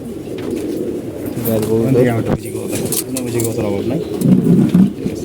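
Home-bred pigeons cooing nearby in low, throaty repeated calls, with a person talking over them.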